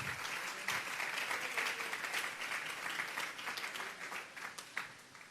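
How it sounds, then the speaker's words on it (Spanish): A church congregation breaks into steady applause, bright and fairly distant, with a few sharper individual claps standing out as the clapping continues throughout. "Denle un fuerte aplauso al Señor esta tarde."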